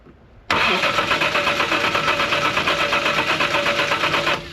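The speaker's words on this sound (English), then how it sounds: "Oh, it might be backfiring actually." A Reliant Scimitar GTE engine cranks and catches abruptly, then runs loud and rough with a rapid, uneven pulsing beat before cutting off.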